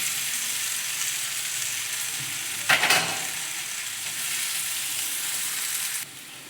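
Cut fenugreek kadubu pieces frying with onion and salt in a pan, a dense continuous sizzle close by with one brief louder burst of scraping partway through, no talk.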